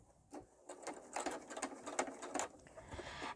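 Sewing machine stitching a fabric potholder at its longest stitch length, a close rattling run of needle strokes in several short bursts with brief pauses between.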